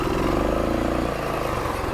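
A Rokon Trail-Breaker 2WD motorcycle engine revs steadily and loudly up close, with a continuous low rumble throughout, on an off-road trail.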